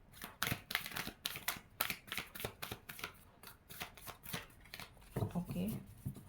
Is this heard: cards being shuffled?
yes